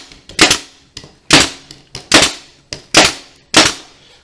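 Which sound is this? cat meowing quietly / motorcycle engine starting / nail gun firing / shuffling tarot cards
nail gun firing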